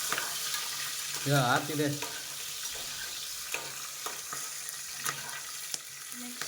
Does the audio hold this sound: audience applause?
no